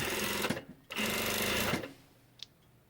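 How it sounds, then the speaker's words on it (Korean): A sewing machine runs in two fast stitching bursts while stretch tracksuit fabric is sewn, loud and close, with a brief pause between runs and a quiet tail afterward. "박음질 하실 때 조금 당겨서 박아야 됩니다."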